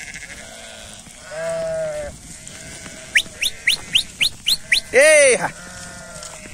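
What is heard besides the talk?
sheep bleating in a flock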